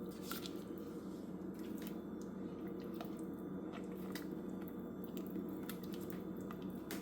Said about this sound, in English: I'm using a flat attachment for this to stir this.